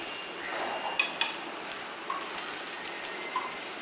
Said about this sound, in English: put it on slow flame and cook it till it's kind of done